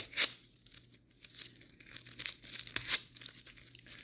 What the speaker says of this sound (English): It's like I take this paper, right? It's a perfect paper. I cut it in pieces.